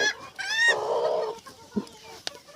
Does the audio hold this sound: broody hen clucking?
yes